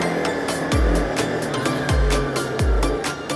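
Cars passing close by in traffic, each swooshing past with a falling engine tone, three distinct pass-bys over a steady roar of road noise heard from a motorbike.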